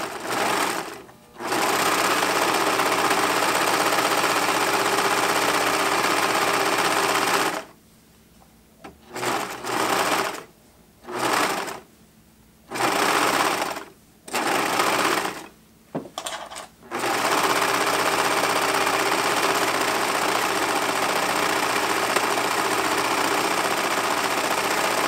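A serger sewing machine stitches pant seams while its blade trims the seam allowance, running in loud sustained bursts broken by several short pauses, then a long final run.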